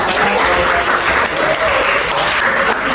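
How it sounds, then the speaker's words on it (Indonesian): A classroom of students at MAN 3 Pekanbaru claps at a teacher's prompt, a loud, close, continuous burst of many hands lasting the whole moment with no speech. "beri tepuk tangan"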